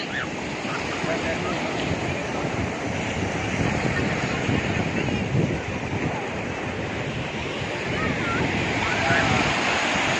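Sea waves surge and wash continuously onto Azhikkal beach in Kerala, a loud broadband roar with steady wind buffeting the microphone throughout.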